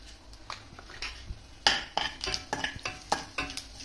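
Cumin seeds dropping into hot oil with mustard seeds over medium heat, crackling in sharp close pops and clicks that grow busier over a faint sizzle, no talking.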